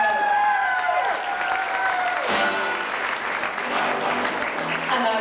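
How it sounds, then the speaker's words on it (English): An audience at the Miss Ireland 1992 pageant applauds Miss Cork with steady, full clapping and some cheering that stays loud for the whole stretch, while a tonal music bed plays underneath. "A round of applause, please, for Miss Cork"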